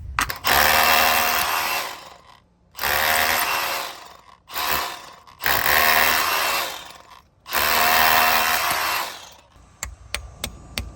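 An SDS rotary hammer drill bores holes for mounting plugs in four loud, close bursts of grinding hammering separated by short pauses, followed by a few sharp clicks.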